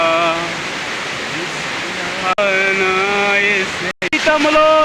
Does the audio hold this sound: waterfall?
yes